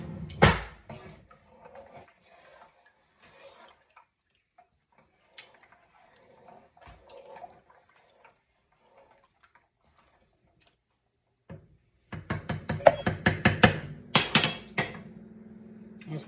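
Spoon scraping and clinking against a pot while rice pudding mixture is stirred, a quick burst of knocks and scrapes near the end after mostly quiet handling noises.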